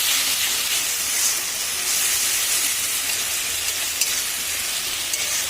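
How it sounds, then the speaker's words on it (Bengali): A paste of ground ginger, cumin, garlic and chili sizzles and hisses steadily in a hot pan while a lote fish curry is being cooked, a continuous close bright crackle with no voices. "এবার আমি দিয়ে দিচ্ছি এর মধ্যে মশলা। এবার হচ্ছে আদা, জিরে, রসুন, লঙ্কা একসঙ্গে বাটা।"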